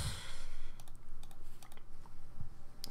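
Quick, light keystrokes patter on a computer keyboard while text is entered on a CS:GO case-opening site, a brief burst of clicks close by and fairly quiet.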